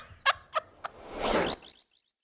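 Birds call with three sharp gobbling, turkey-like bursts, followed by a rising rushy swell and a few faint chirps before it goes quiet.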